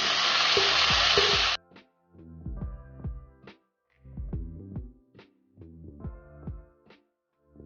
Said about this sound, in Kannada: ನೀರುಳ್ಳಿ ಫ್ರೈ ಆಗಲಿ ಮೊದಲು